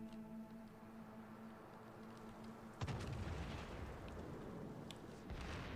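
Naval artillery from battleship guns in the World of Warships video game, a single loud boom near the middle followed by rumbling broadband noise over a steady background hum.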